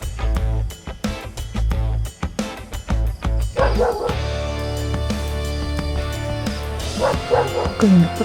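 Dogs barking near a rainy mountain campsite, a rapid run of sharp close barks and yips, then quieter whimpering and occasional yelps over a steady background hum.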